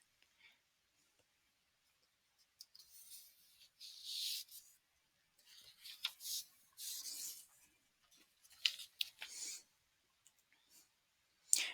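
A pen or pencil writes by hand on paper in short, close scratchy strokes separated by brief pauses, soft and isolated.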